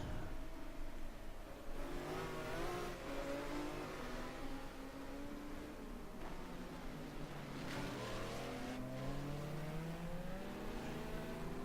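GT1 race cars circling Magny Cours in a sim racing game, several engines revving and shifting in overlapping sweeping tones, moderately quiet and steady throughout.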